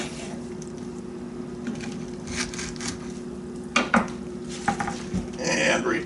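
A knife cuts napa cabbage into pieces on a board while kimchi is prepared. A few soft, quiet chops and clinks come over a low kitchen hum, growing a bit louder near the end.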